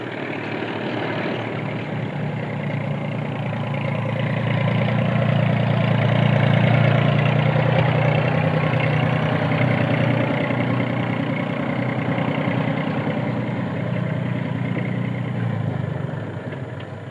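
A Standen Cyclone harvester works in a Fens field, its engine droning steadily at a low, even pitch, swelling slightly midway and then easing off, heard alone with no talk.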